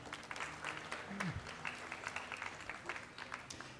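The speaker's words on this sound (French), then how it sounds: "Vous pouvez applaudir aussi au passage." Applause from an audience at a conference event on cryptocurrency, a steady wash of many hands clapping at moderate distance, fairly quiet overall and lasting throughout.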